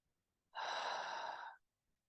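A single deep inhale taken during a guided breathing practice, drawn into the chest. The breath is close and breathy, rising sharply, holding full for about a second, then cutting off into silence.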